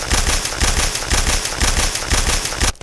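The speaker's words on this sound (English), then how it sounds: "It sounds like gunfire every time I mine this" Rapid, crackling bursts like automatic gunfire repeat while tooth blocks are mined in a modded Minecraft game. The loud, dense popping continues alone throughout, then cuts off abruptly near the end.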